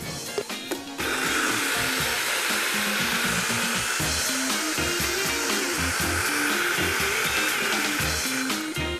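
A countertop blender whirring up a green smoothie of banana, apple and greens: a few short clattering taps, then a loud, steady high-pitched motor roar that runs on without talk.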